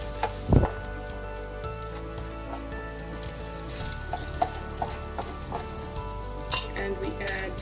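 Onions with coriander, turmeric and chili powder sizzle in a pan, a continuous crackling hiss broken by a few spoon knocks and scrapes of stirring, close up with no voices.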